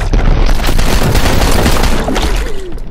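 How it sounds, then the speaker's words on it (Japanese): Explosives go off in the destructible-environment backrooms video game, giving a loud, continuous barrage of booming blasts and crackling debris that fills the whole stretch. "爆発物だよ。"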